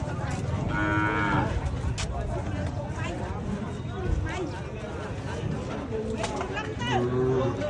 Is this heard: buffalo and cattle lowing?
yes